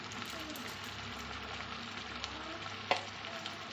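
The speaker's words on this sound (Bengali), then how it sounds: "এবার মশলাটাকে ভালো করে কষিয়ে নেব" Spice paste of sour yogurt, turmeric and red chili powder sautés in a pan for a surma fish curry, making a soft, steady sizzle with one clear utensil tap near the end.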